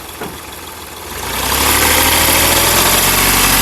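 A 2017 Hyundai Xcent Magna's three-cylinder engine comes in after a faint start and settles into a loud, steady idle with a low, even hum close by.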